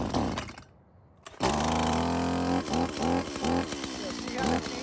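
A chainsaw engine sputters briefly after a pull start, drops away, then catches and runs loudly at a rough, pulsing idle close by, with the chain guard removed.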